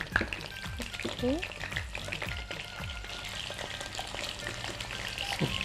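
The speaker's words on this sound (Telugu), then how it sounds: "దీంట్లో మనం ఇలా సన్నగా కట్ చేసుకున్న ఈ బంగాళదుంప ముక్కల్ని మనం నీళ్ళలో నుంచి తీసి వేసుకోవాలి నూనెలో" Thinly sliced potato pieces fry in oil, a close sizzle broken by repeated sharp clinks and scrapes as they are stirred in the pan, with brief snatches of voice in the background.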